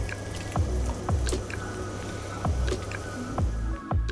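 Blanched tomatoes are dropped and moved around in a bowl of cold water, producing a series of close, soft splashes and wet squishes at irregular intervals.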